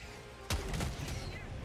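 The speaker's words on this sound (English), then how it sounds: "throwing down an airburst strike" Airburst strike explosions in Helldivers 2 set off a sudden loud blast, then a rolling spread of crackling detonations and rumble over ongoing battle noise.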